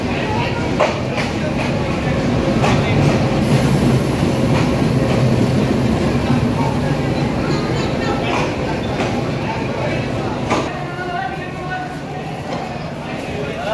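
The Jaria local train runs on its rails, giving a loud, close and continuous rumble broken by a rhythmic clickety-clack of wheels over the rail joints.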